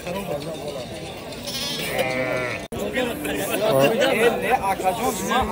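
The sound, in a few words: sheep bleating at a livestock market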